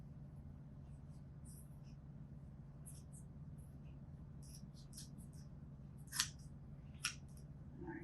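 Two short, crisp snips of scissors cutting through kinesio tape, standing out over a steady low hum and faint background noise.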